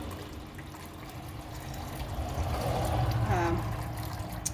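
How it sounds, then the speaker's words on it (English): Water mixed with melted beeswax pours into a pan, a close, swelling liquid splash and trickle that builds through the middle of the clip before tapering off. "So let's just begin to pour that in. This is water and wax,"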